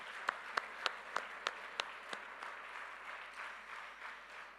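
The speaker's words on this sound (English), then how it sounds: "It needs a huge round of applause for the entire organizing team." Applause for the organizing team at the valedictory session of the Rajasthan Architecture Festival 2022: a few sharp, evenly spaced claps up front, then a softer, fainter spread of crowd clapping that gradually fades.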